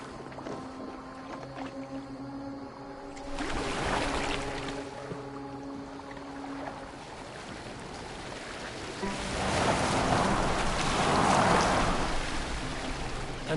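A boat steered across open water in Assassin's Creed Valhalla, with continuous splashing and rushing water that swells in two louder surges, mixed with faint tonal game ambience and no speech.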